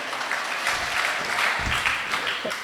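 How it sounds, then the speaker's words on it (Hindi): An audience at a Jain Bhaktamar religious discourse claps for themselves, a steady moderate patter of many hands in a hall, fairly even throughout. "अब ताली बजा लो अपने लिए।"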